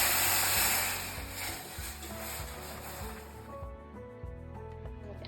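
Steam from hot water poured into a hot oven for homemade bread hisses loudly and close for nearly four seconds before cutting off, leaving a low rhythmic background beneath.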